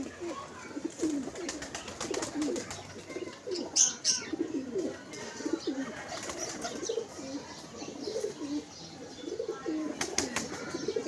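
Pigeons coo repeatedly at close range in a loft, soft throaty calls overlapping in an uneven rhythm, with occasional chirps and light wing or movement noises and faint voices in the background.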